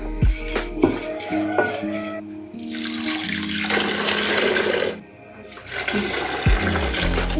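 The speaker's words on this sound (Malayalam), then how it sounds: "രണ്ടാമത്തെ പാല് രണ്ട് കപ്പ് വെള്ളം കൂടെ ഒഴിച്ച് നമുക്ക് പിഴിഞ്ഞെടുക്കാം" Water is poured over freshly grated coconut and squeezed by hand to draw out the second coconut milk for homemade coconut oil, a close, continuous rush and slosh of liquid with no talk.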